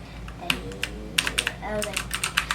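Keys clack on an AUKEY mechanical gaming keyboard with RGB backlighting, in scattered sharp taps that speed into a quick burst, close and clear over a low hum.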